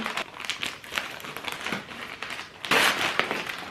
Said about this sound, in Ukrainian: Розпаковуємо, а тут пакет в пакеті.